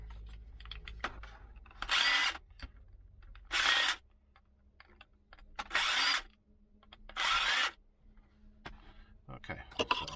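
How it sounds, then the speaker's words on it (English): Electric screwdriver backing out Phillips lock screws on a Lockwood 355 lock, four short whirring bursts spaced a couple of seconds apart, close up, with quiet handling clicks and a voice talking in between. "I've got my lazy screwdriver here"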